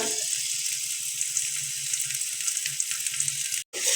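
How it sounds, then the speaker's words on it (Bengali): Chopped onions frying in oil in a pan for a curry, a steady close hiss of sizzling with soft low bubbling, moderately quiet, ending in a brief cut to silence, no talk. "যে পরিমাণ মতন তেল, পরিমাণ মতন পেঁয়াজ কুচি দিয়ে দিলাম।"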